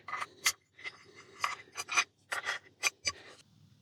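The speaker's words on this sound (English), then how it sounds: "that's done by just removing these two screws here. Again, using a 3mm Allen key." A 3mm Allen key turns out the two top rail screws on an AGT air rifle, making a series of short, close scraping rasps in quick irregular bursts.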